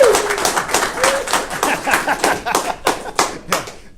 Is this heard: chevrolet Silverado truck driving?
no